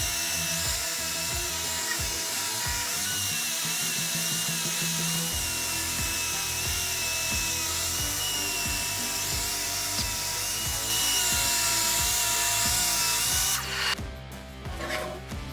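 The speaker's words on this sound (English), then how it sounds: "I'm cutting these out of 3/4 inch birch veneer plywood" A power saw cuts through 3/4 inch birch veneer plywood with a loud, sustained high whine and rough cutting noise. It runs continuously before cutting off abruptly near the end.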